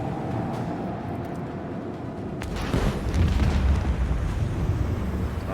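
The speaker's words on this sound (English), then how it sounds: "So I'm sending the torpedoes right over here." Torpedoes striking a target in the video game Rogue Trader: a quiet hum breaks into a loud, rumbling explosion that keeps booming to the end.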